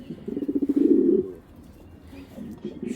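Racing pigeons coo close by in a loft, with a loud rolling coo mid-clip followed by softer cooing, and faint chirps in the background.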